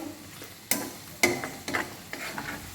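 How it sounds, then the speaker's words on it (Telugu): Chicken liver and heart frying in a pan, a soft continuous sizzle broken by a few sharp spatula clacks and stirring scrapes, close and without talk. "మంచిగా ఫ్రై అయిపోతున్నాయి"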